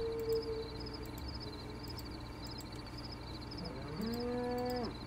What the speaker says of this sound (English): This cow roaming around is freaking me out